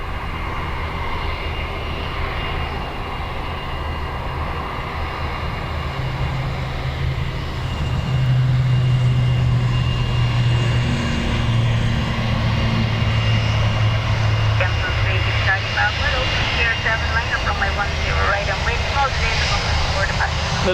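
An airliner takes off from runway 10 right at Dublin Airport, its engines building from a distant rumble to a loud, sustained roar with rising tonal whine, while radio voices and nearby talk carry on over it.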